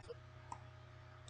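A computer mouse gives a faint quick double left click, two tiny ticks close together over a low steady hum, during drawing software work.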